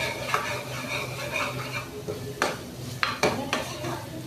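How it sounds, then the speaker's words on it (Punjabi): Ridge gourd (torai) curry is stirred and fried in a pan, with a steady soft sizzle beneath repeated scraping and clinking of a spoon against the metal, a few sharper knocks standing out near the end. "ਚੰਗੀ ਤਰ੍ਹਾਂ ਅਸੀਂ ਭੁੰਜਣ ਲਵਾਂਗੇ"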